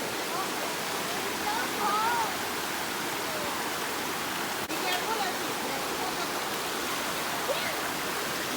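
Small stream near Amicalola Falls rushing steadily as a broad, even splashing hiss, close and continuous, with brief voices faintly over it.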